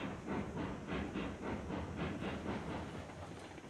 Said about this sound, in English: come take a look at this train I'm moving over here by the freight depot